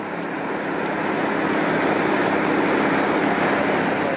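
Steady water flow rushes through a production cleanup sluice box, washing blonde sand out of the riffles; a continuous, even broadband wash with no talk.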